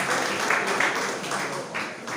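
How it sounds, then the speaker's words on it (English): A crowd at a community development and security stakeholders meeting applauds the community chairman, a sustained round of clapping at close range with a few louder swells and voices murmuring underneath. "Make una clap for the group community chairman"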